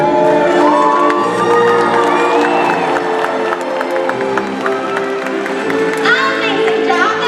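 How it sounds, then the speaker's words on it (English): A large crowd at a SeaWorld Orlando orca show cheers, whoops and applauds loudly and continuously, with children's shouts rising above the roar and music playing underneath. "When we see this jump, let's give it a great big cheer."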